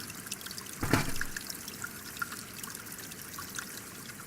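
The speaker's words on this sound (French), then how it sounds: "L'eau déborde et ruisselle tout le long du calan." Irrigation water spills over and trickles along a ditch across hay meadows in the Crau, a steady soft babble and rush heard at moderate distance, with one brief louder splash near the start.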